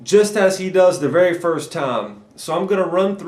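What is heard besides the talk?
No distinct noise like a dog, phone or traffic.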